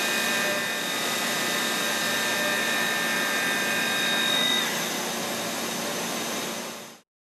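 A milling machine with a finishing cutter takes a light pass across Class 35 cast iron at high speed, giving a steady, loud, high-pitched whine that holds for several seconds before cutting off abruptly.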